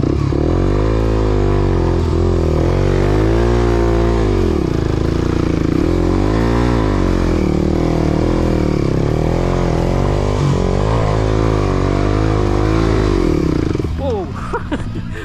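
Motorcycle engines roar loudly and continuously on a trail ride, repeatedly revving up and down, close by, with voices barely audible under the engine noise.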